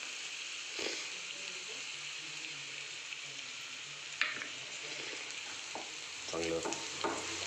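A garlic-chili paste is stirred into eggplant bharit frying in a pan, giving a steady close sizzle with occasional scraping and tapping of the spoon against the pan.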